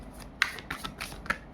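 Tarot cards being handled and shuffled to draw a single card, close up, with soft rubbing and a few sharp flicks and snaps scattered over about a second and a half, no talking.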